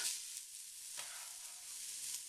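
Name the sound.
garlic and onions sauteing in hot olive oil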